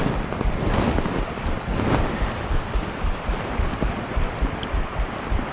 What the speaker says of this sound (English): Listening to the water running.